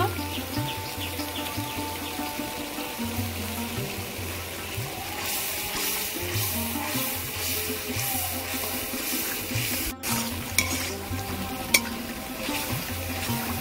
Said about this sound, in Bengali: সবকিছু মশলা দিয়ে আমি ভালো করে কষিয়ে নিয়েছি